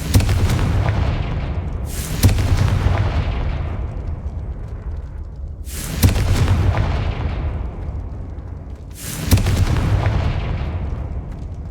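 Confringo fire spell explosions in Hogwarts Legacy: three loud blasts spaced a few seconds apart, each a sharp boom trailing into a long rumbling decay over a steady background roar.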